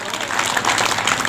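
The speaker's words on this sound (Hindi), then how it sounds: "तालियां बजा दीजिए एक बार।" A crowd at an Adivasi Sarna community gathering claps together in a short, dense burst of applause that stays steady and fairly loud throughout.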